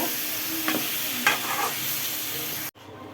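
A spoon stirs beans and tomato curry in a frying pan, scraping a couple of times over a continuous sizzle that cuts off abruptly at the end.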